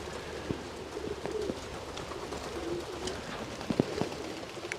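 Soft coos from pigeons in a loft repeat intermittently over a steady hiss of rain, with a few sharper taps and flutters.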